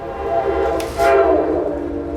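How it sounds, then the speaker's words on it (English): A train passing near an old train depot, a loud broad rumble of rail cars with a horn-like tonal blare swelling in the middle of the pass, heard close and continuous. "Oh, train coming."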